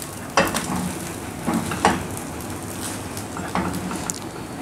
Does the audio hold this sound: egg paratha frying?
yes